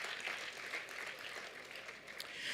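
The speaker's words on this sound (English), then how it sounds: "A big round of applause to them as well." Audience applause at an international youth peace summit, a steady wash of many hands clapping at a fairly faint, distant level throughout.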